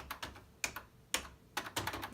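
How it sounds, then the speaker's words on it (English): Separate key presses on a vintage Brother word processor keyboard, a few sharp clicky taps with short pauses, then a quicker burst of several keys near the end, close and fairly quiet with no talking. "when you press a key, it will make noises"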